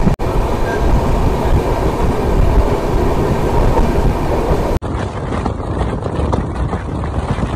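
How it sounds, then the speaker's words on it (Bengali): Loud, steady rumble of the Gitanjali Express train running on rails between Howrah and Mumbai, with a continuous roar and a faint clatter of wheels throughout. "আমাদের ট্রেন এই মুহূর্তে পার করছে শ্যামচক।"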